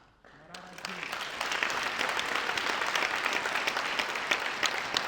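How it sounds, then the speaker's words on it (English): An audience applauds Bishop Joshua Maponga after his talk on rewiring and rewriting the African in the 21st century; the dense, steady clapping swells within a second and stays loud and sustained to the end. "a very, very, very big round of applause for Bishop Maponga"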